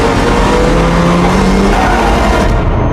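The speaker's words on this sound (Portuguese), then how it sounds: "era o ronco do motor de uma Ferrari" A Ferrari engine roars loud and close in a film soundtrack, a continuous powerful drone with a tone that rises as it revs.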